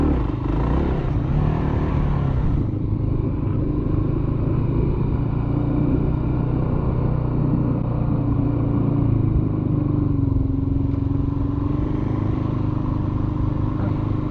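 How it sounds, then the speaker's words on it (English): Motorcycle engine labouring up a hill, a loud continuous low drone with shifting pitch as the rid nearly stalls it, close and steady with no talk over it. "Don't let that bike die on that hill. I got close there. Almost stalled her out."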